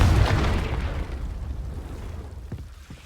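A Confringo spell blast in Hogwarts Legacy: one loud, deep boom at the start that rumbles and fades away over a few seconds, followed by faint clicks.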